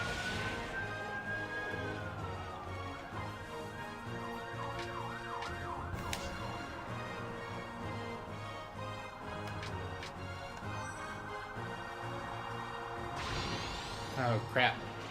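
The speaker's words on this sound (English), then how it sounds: "Got a lot of ambulances going out right now." Several ambulance sirens pass outside, wailing and yelping in rising and falling sweeps over a steady engine and traffic bed, fairly distant and layered, with a louder burst near the end.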